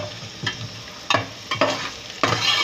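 Onions frying in a pan until golden while a Hindi cook prepares black pepper chicken pulao, with steady sizzling and several distinct scraping stirs of a spoon, close and alone.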